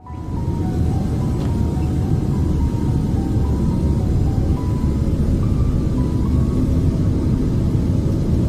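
A passenger airplane taking off from a Moscow airport, a steady deep engine roar and rumble that holds loud and constant throughout, with no voices.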